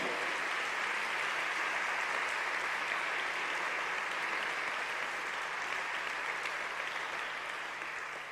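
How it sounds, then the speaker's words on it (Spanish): A church congregation at a Spanish-language sermon applauds: a continuous, even wash of many hands clapping, steady and moderately distant, with no break for the whole stretch. "Le damos un aplauso."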